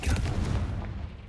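In Hogwarts Legacy, a Confringo blasting spell lands with a single loud, booming explosive burst that rumbles briefly and then fades, with no talk over it.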